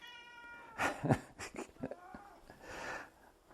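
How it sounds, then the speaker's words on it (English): A cat meows several times up close, drawn-out and wheezy calls with short breathy pauses between them, over a quiet background. "That's my cat."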